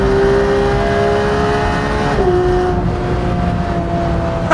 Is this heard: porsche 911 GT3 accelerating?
yes